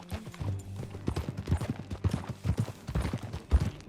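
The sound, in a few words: horse hooves clip-clopping in the video game Red Dead Redemption II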